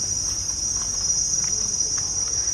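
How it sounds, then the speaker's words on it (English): Crickets chirp in a continuous, dense high-pitched drone at a peaceful spot on Koh Chang island, steady and prominent over faint background ambience, with no talking. "Can y'all hear the crickets?"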